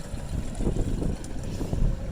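A Honda 45 horsepower outboard motor running on a Carolina Skiff in the rain, a steady low engine rumble mixed with wind and water noise, close and continuous.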